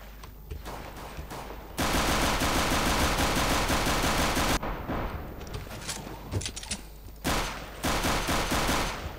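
Gunfire in the video game Counter-Strike: Global Offensive, with loud, dense bursts of rapid automatic fire broken by short pauses and scattered single shots.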